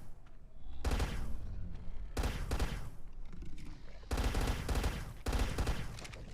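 Gunfire in a dinosaur-taming video game comes in several dense, rapid bursts separated by short pauses, each salvo loud and punchy with a crackling, rattling texture.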